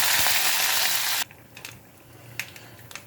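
Urad dal and curry leaves hit hot oil for a tempering, a loud dense sizzle that cuts off abruptly, leaving faint crackles and scattered pops nearby.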